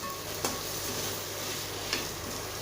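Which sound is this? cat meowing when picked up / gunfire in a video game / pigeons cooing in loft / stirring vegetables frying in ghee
stirring vegetables frying in ghee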